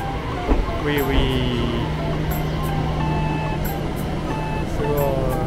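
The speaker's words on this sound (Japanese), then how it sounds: "普通列車だ、普通列車。" A two-car local train rumbles steadily nearby with high squealing brake tones and metallic screeches as it pulls into a station in Kiyotake, Miyazaki, Japan, while people talk over it.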